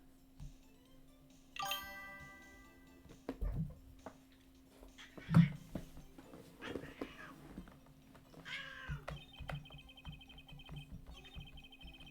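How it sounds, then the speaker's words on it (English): A house cat meows several times at close range, with short and drawn-out cries scattered among faint ticks, jingles and soft background noises. "Incoming message from my cat."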